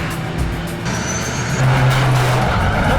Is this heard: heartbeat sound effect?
no